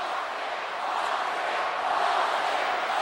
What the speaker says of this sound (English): Crowd chanting for the rattlesnake.